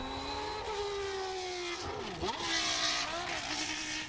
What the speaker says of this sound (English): The sound of this engine is legendary among F1 fans, sharp, high-pitched, and resonant.